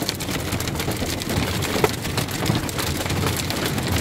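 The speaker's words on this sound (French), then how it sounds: "c'est mon premier orage de grêle dans le camion là. C'est impressionnant." Hailstones pelt a camper van roof during a thunderstorm, a dense, loud, continuous drumming and pattering that holds steady throughout with no talking.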